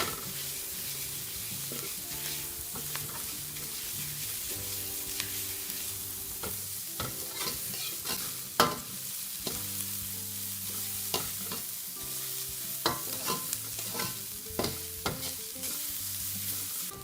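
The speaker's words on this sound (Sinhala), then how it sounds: "කැරට් ටික හොඳක් වෙලා පිටෙන්න ටෙම්පරාදු කරගන්න එක." Carrots stir-fry in hot oil for Sri Lankan string hopper kottu, with a constant close sizzle and scraping stirring strokes running throughout while soft background music plays.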